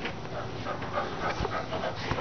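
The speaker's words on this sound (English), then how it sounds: "That's my crazy dog" A dog pants rapidly and whimpers close by, with quick rhythmic breaths and small high whines running through the short stretch.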